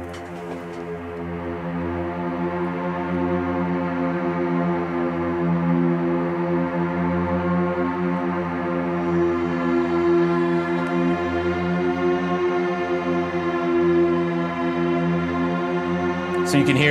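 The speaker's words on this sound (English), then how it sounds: "it's this one held kind of note that just like, just kind of the pitch of it is going up and down constantly" A creepy sustained synthetic note from the Warframe video game, its pitch wavering up and down constantly like a slow siren, a loud continuous drone rich in overtones holding steady for the full length.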